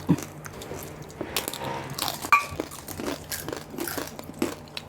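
Crispy fried pork skin (balat) crunches in close bites and crinkles, irregular crackling bursts at a New Year's Eve Filipino food feast, with soft rustling in between and no talk.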